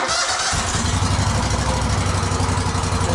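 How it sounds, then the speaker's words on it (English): Kohler EFI small engine cranks and catches about half a second in, then settles into a steady, loud, rhythmic idle that runs unbroken to the end. "all we're going to do is we're going to start the engine"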